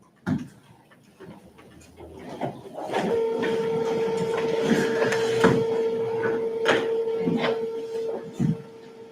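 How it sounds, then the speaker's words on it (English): An office printer runs for several seconds in a county commission meeting room, a steady whirring drone with mechanical clicks and thumps, fairly close and alone without talk. "I put that new cartridge in that printer"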